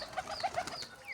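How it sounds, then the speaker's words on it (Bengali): Several pigeons coo softly while feeding, a quick run of low throaty calls close by, with light rustling around them. "আমার পায়রাগুলোকে খাইতে দিয়েছি, পায়রাগুলো খাইতেছে"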